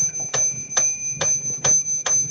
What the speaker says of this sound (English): I think this is probably the most toy piano part is this little bell.